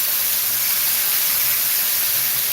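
Water poured onto a hot Blackstone flat-top griddle flashes into steam, giving a steady, loud, close hiss that holds evenly across the whole moment with no talk.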